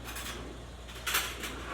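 Metal spoon picked up and clinking against a tray and dishes during snack preparation, a few light close rattles with a brief louder clatter near the middle, no talking.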